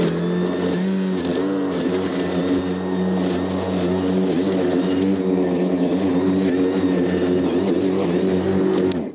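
Battery-powered AS Motor commercial lawnmower running at full power, a steady, loud, continuous motor drone with slight rises and dips in pitch throughout, with no talking.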